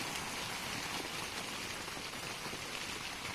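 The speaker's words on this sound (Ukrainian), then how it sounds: "на дворі почав падати дощ" Rain falling outdoors over a vegetable garden in spring, a dense, even hiss of drops on surfaces that holds steady and moderately quiet from start to finish, with no voices.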